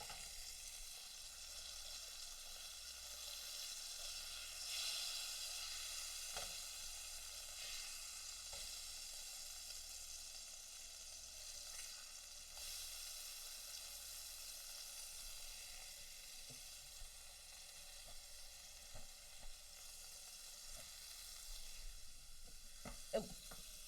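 Burger patties sizzle steadily in a hot pan, a continuous crackling fry with occasional louder pops and spatters, close by and unbroken with no talking.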